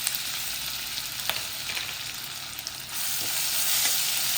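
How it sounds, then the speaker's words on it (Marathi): Cumin seeds with green chili and ginger paste fry in hot oil, making a continuous bright crackling sizzle, close and fairly even, with a few small pops and a slight swell toward the end. "आता आपण थोडेसे जिरे टाकू आणि हिरवी मिरची आल्याची पेस्ट टाकू"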